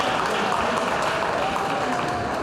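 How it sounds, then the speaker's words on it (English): An audience applauding at a Sunday feast gathering: dense, even clapping from many hands that fills the whole stretch without a break. "Let's give a bigger round of applause to Vishal Prabhu and his team."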